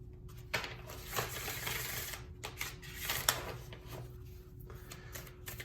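A numerology oracle card deck with sticky cards is shuffled by hand, giving close, dry bursts of riffling and flicking in an uneven rhythm over a faint steady hum.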